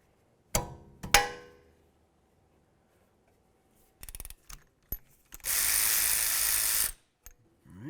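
Ratchet clicks and metallic taps while a brake caliper banjo bolt is loosened on a 2002-2006 Honda CR-V, with two sharp ringing knocks early, a burst of ratcheting and a sustained hiss-like whir, then a final short clatter, close and moderately loud.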